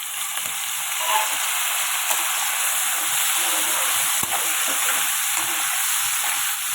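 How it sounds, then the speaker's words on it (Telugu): Onion and tomato pieces fry in a pan for an Andhra drumstick lentil rasam, a continuous bright sizzle and hiss close by with occasional stirring clicks. "ఇప్పుడు దీంతో పాటు టమాటా ముక్కలు కూడా వేసేస్తున్నాను"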